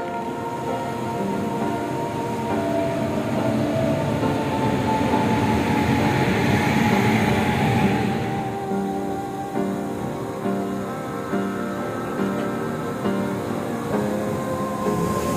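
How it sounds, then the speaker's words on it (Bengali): A passenger train on the Azimganj to Guwahati line rolls into Jangipur station at night, a steady loud rumble of carriages and wheels with a slight swell midway before settling into a lower, even drone. "রাত্রি 2:05। ট্রেন আমাদের জঙ্গিপুর স্টেশন ঢুকছে।"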